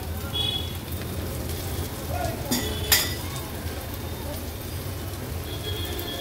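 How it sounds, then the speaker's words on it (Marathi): Bitter gourd sautéing in oil with turmeric and masala for an Agri-Koli style vegetable dish, a low continuous sizzle with a couple of stirring clatters, steady and close. "व्यवस्थित ही कारली आता ह्या मसाल्यांमध्ये आपल्याला परतून घ्यायची आहे"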